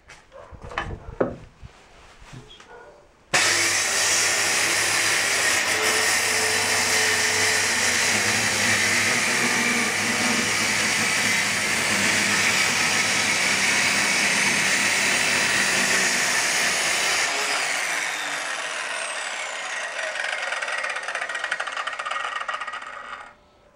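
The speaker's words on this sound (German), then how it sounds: "Die Tischplatte ist nun fertig geschliffen oder fast fertig" A power sander runs loudly and continuously over a rustic wooden dining table top, starting abruptly after a few faint knocks, holding a steady whirring roar for about fourteen seconds, then fading as it winds down.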